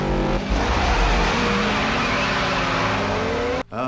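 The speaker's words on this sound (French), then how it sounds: "la caisse qui fait un wheeling" A car in a Fast and Furious film action scene lifts its front wheels in a wheelie, engine roaring loudly and steadily with a rising whine before cutting off abruptly near the end.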